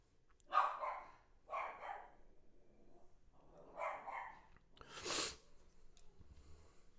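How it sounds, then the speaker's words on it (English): A dog barks indoors from downstairs, heard faintly and at a distance, with four or five separate barks spaced over several seconds and quiet gaps between them. "Anytime she sees somebody walk by the house or something outside the window, it's her job to bark like crazy"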